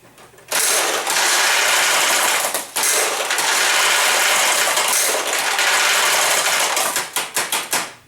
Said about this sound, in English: just tapping the machine, make sure all the balls are out